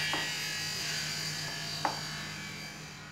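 An electric hand mixer whirs at a steady high-pitched drone while mixing cookie dough with eggs and praline spread, with a few faint knocks against the bowl.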